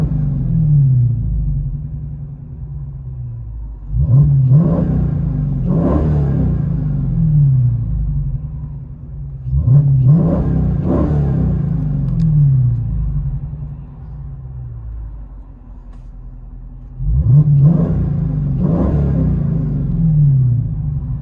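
Inside a 2015 Dodge Challenger Scat Pack with a 6.4L V8 and Jones exhaust, a deep steady idle rumble is broken by three rising and falling revs at regular intervals, loud and booming through the cabin.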